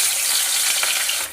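Fish pieces sizzle as they hit hot mustard oil in a pan, a loud close frying hiss that holds steady and drops slightly at the very end.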